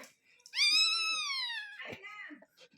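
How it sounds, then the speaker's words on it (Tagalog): A high, drawn-out cheeping cry from a duckling with rising and falling pitch, close and loud, followed by a shorter second call, like a distressed young bird. "Bibi to bibi. Kala mo pusa, hindi yan pusa."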